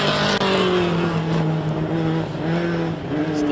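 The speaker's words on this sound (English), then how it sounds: "these basically are NASCAR motors in a truck that jumps" Short course racing trucks with NASCAR engines roar loudly and continuously at a race in Victorville, the engine note rising and falling as the trucks race past close by.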